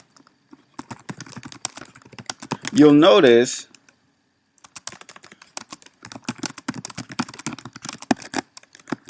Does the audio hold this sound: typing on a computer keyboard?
yes